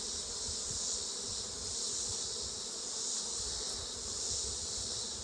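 Honeybees buzzing at an open hive while a beekeeper works the frames before winter, a dense continuous drone that hovers steadily close by, even and unbroken for several seconds with no talking.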